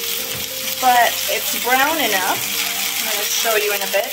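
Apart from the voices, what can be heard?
mushroom sizzling under press in pan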